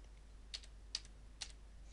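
Three crisp, quiet key presses on a computer keyboard, spaced about half a second apart, with no voices over them.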